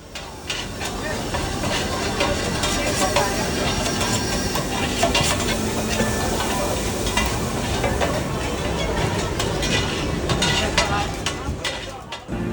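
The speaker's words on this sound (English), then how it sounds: "Watch this skilled chef/cook sauteing the ultimate Thai basil stir fry, aka pad karapao." A cook sautés Thai basil stir fry (pad kaprao) at a Bangkok street stall, with a steady, loud sizzle and hiss of frying and clattering stirring running throughout against busy street noise.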